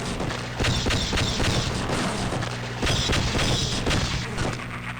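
Bursts of Hornet gun fire in Half-Life, shot down a hallway at Vortigaunts, crackling in loud repeated volleys with booming impacts over a dense game soundscape.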